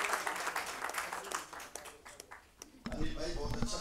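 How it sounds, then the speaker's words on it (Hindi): An audience at a poets' gathering in Delhi bursts into sustained applause for a poet, a dense crowd-wide clapping that dips briefly and then swells louder, with voices mixed in. "मैं चाहता हूं जोरदार तालियां बजाएं"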